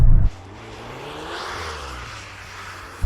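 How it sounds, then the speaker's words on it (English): A Volkswagen Golf R engine pulled at full throttle, a steady loud roar that swells and holds for a few seconds, heard from inside the car without talk. "Apparently, just floor the throttle and let it do its thing."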